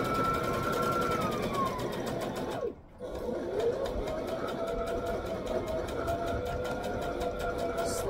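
A sewing machine runs steadily, stitching slowly over a seam on a wrap skirt, with a brief pause midway before the fast, even needle rhythm resumes.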